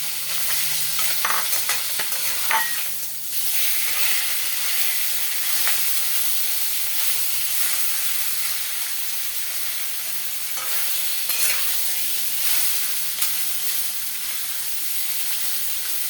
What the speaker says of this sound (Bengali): মাছ এই যে ধুয়ে লবণ হলুদ মেখে রেখেছি, মাছটা দিয়ে দেবো কড়াইতে